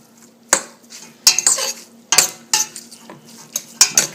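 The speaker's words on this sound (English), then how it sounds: "So once I do this, I stir it very well." Pasta aglio e olio is stirred in a pan, with a series of sharp, close clinks and scrapes of utensil against metal at irregular intervals over a faint sizzle.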